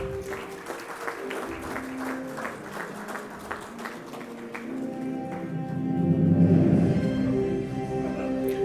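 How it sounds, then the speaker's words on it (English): Audience applause fills an award ceremony at a regulators and policymakers retreat, steady clapping throughout that swells louder near the end, with a faint voice underneath. "A huge round of applause, please."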